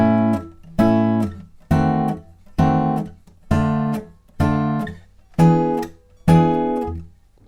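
An acoustic guitar plays a short break from a song as eight evenly spaced, ringing chord plucks in a steady rhythm. Each pluck decays before the next, and no one talks.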